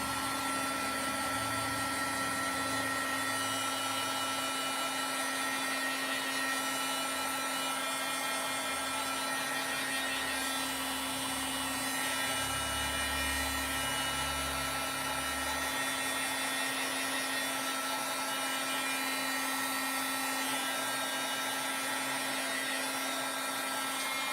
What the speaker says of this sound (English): So I'm going to grab my heat gun.